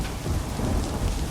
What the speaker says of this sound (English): Rain pours down around me, and thunder rumbles overhead.